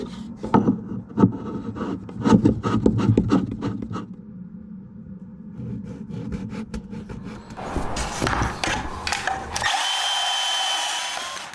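Portaband portable band saw cutting metal pipe for a DIY livewell cooler setup, a close, loud grinding rasp in several bursts, then a steadier, brighter whine that settles into a sustained hiss near the end.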